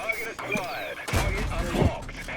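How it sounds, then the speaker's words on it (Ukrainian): Bursts of gunfire and thudding shots in a tank video game, with an AT 2 tank destroyer on the Steppes map, crackle in quick succession, with a voice talking over the battle sounds. "Ну що, перестрілка."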